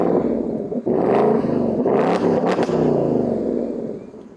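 A 2024 Ford Mustang GT Performance Pack engine runs after a remote start, a loud, close, deep throbbing idle with a couple of brief dips and clicks, fading slightly toward the end, no talking.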